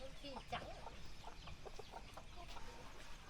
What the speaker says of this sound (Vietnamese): Đây phải cái loại gà đen cả xương chứ không nhỉ bà nhỉ?